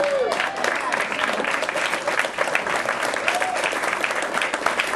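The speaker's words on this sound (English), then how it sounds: "Let's give her some applause" Wedding guests applauding after a maid of honor's toast, a full, steady roar of clapping from a crowd lasting the whole five seconds, with faint voices mixed underneath.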